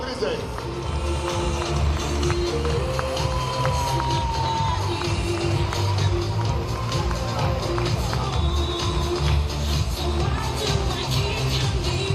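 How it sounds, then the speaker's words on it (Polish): An audience at the Miss Pomorza Zachodniego 2011 beauty pageant final keeps up steady applause and cheering, loud and continuous, with voices mixed into the crowd noise. "wielkie brawa dla"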